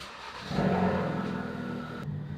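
A 2017 Ford Focus RS engine with a Mountune bypass valve revs up with a low, throaty roar, heard close from a microphone in the engine bay, steady, then cuts off abruptly near the end.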